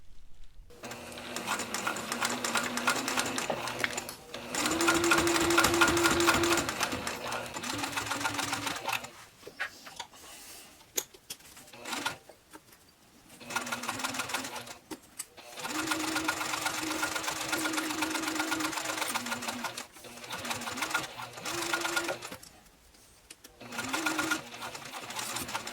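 A sewing machine stitches a zipper pouch seam at a 4mm basting length, running in a steady close whirring hum with fast needle chatter, broken into several long runs separated by short quiet pauses.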